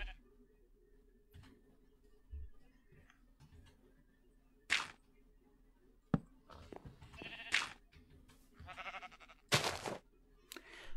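Sheep bleating in Minecraft, several short separate bleats scattered over a quiet background, some louder and closer than others, with faint soft talk between them.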